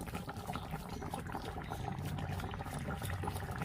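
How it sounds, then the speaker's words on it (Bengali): Cabbage curry comes to a boil in a pot, a steady dense bubbling and simmering with no pauses, close and moderately loud throughout. "এই যে দেখো ফুটে উঠেছে"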